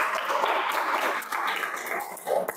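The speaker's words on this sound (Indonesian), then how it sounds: "Tepuk tangan buat Mbak Khadijah" Audience applause for Mbak Khadijah at the close of a classroom activity, a steady patter of clapping hands sustained for a couple of seconds, moderately loud and fairly close, with a brief swell near the end.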